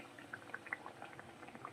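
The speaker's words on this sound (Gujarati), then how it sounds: "એટલે થોડી વાર તળાવા દેશું, પછી ચકરીને સાઈડ ચેન્જ કરશું આપણે." Wheat flour chakri fries in hot oil, a quiet close bubbling with small popping bursts over a brief moment.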